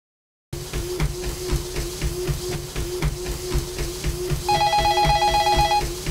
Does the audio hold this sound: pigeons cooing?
no